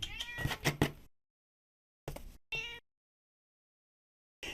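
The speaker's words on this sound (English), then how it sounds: "The cat is so spoiled, I have to put her box in my lap." A pet cat meows indoors in several loud, close bursts: a cluster of rapid meows at first, then two short calls after a pause and another starting at the very end, with silence between.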